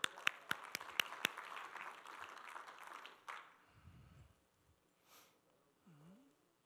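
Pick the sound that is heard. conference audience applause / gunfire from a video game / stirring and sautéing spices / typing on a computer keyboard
conference audience applause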